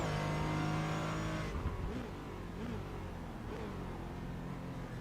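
Race car lapping the Silverstone GP circuit, its engine loud and close, holding a high steady note before dropping and rising again through shifting revs.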